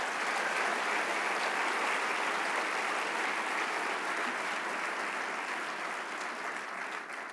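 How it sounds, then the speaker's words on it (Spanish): A church congregation applauds during a worship service, with dense, sustained clapping at steady loudness from start to finish, easing only slightly at the end. "Le damos un aplauso al Rey de Reyes."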